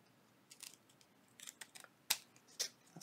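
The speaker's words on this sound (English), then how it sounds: "And I'm going to just cut right here." Scissors snipping through paper for a junk journal collage, a handful of short crisp cuts spaced irregularly and close up, the last two sharper and louder, with no talking.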